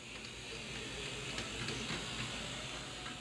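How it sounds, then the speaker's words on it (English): Freight train locomotives near a petroleum refinery yard approach track turnouts, a faint, steady hiss and low rumble at a distance with no voices. "here comes our locomotives approaching the turnouts"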